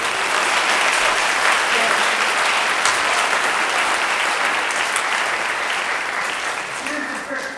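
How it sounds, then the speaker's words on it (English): Loud, full audience applause at a college choir spring concert, continuous dense clapping with some crowd voices mixed in, easing off gently toward the end. "Give them a round of applause."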